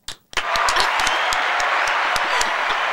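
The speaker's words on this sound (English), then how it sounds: "Round of applause for Yianna." Applause in a small room for a podcast host, a short burst then dense steady clapping with occasional sharper claps throughout.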